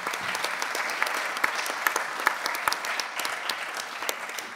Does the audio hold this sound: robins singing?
no